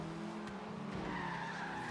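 Race car tires skidding under hard braking in the Forza Horizon 3 video game, a steady continuous squeal over engine drone lasting the whole moment, loud and close with no talk.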